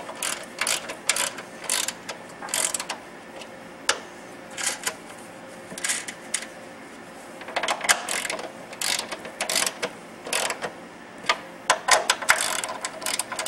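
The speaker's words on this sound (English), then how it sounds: "We will snug these up with a ratchet, being careful not to put too much torque on any individual stud." A ratchet snugs the strut mounting nuts onto their studs on a 2002 Dodge Neon, giving bursts of rapid metallic clicking separated by short pauses, close and fairly loud with no talk.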